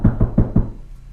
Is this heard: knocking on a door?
yes